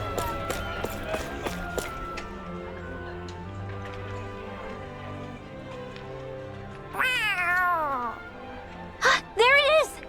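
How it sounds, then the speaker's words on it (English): A cat meows in the Tales of Arise video game: several drawn-out, wavering meows come after a stretch of game music and ticking ambience, close and fairly loud, with the last two calls short and sharp. "We're gonna lose track of that cat if we're not careful"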